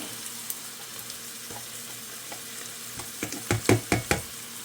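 Garlic hits a hot pan of beef, potato and pepper casserole with Cajun seasoning, a steady soft sizzle broken by a few louder bursts of frying and stirring near the end.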